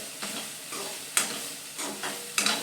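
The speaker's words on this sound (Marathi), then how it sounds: "फ्राय करून घ्यायचं फ्राय केलेले मक्याचे दाणे याच्यात मिक्स करून घ्यायचे" Corn kernels fry and get stirred in a pan, a close, steady sizzle broken by rhythmic scraping sweeps of a spatula every half second or so, with no talking.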